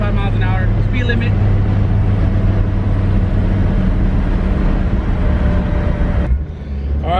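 A 480-horsepower turbocharged all-wheel-drive Honda cruises at highway speed, its engine drone and road rumble steady and loud inside the cabin, with people talking over it before the sound drops away abruptly near the end.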